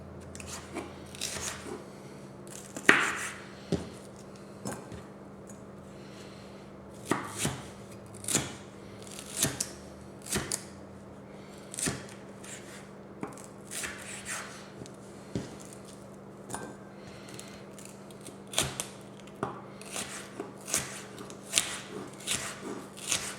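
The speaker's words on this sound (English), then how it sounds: "We're going to cut these pieces in half and half again, and then we're going to cut them into thin slices." Knife slicing bell peppers into thin strips for a pepper steak stir fry, a steady run of sharp, close chops on a cutting board with irregular gaps between strokes over a faint low hum.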